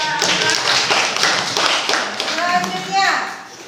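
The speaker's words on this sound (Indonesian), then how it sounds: "Beri tepuk tangan pada Anda." Students in a classroom clap together in rhythmic bursts, close and loud, with children's voices chattering over and between the claps.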